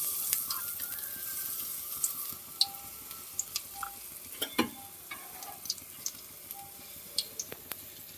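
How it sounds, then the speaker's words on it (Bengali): Cornflour-coated eggs frying in hot oil in a pan for egg chili, a steady close sizzle with scattered sharp crackles and pops throughout, no voices. "এবার ডিমগুলো কর্নফ্লাওয়ারের মধ্যে ডুবিয়ে তেল গরম হয়ে গেছে,"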